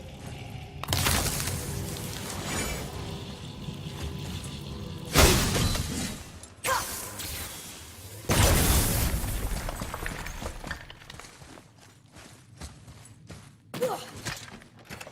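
Repeated shattering of objects in the God of War video game: several heavy crashing bursts with rumbling debris, followed by smaller scattered cracks and impacts.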